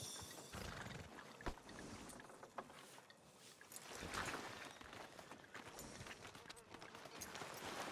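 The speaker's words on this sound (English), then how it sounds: "Are you going to mount that new horse of yours or not?" Horse whinny and snorting in the Western open-world game Red Dead Redemption 2, heard over busy outdoor ambience with hoof and movement noise, no talk, fairly close and moderately loud.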